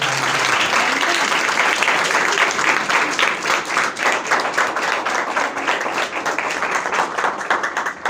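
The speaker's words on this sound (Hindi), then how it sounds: "एक बार ज़ोरदार तालियों से" Loud, sustained applause from a church congregation during a Mother's Day service, dense steady clapping filling the room for the whole stretch without a break.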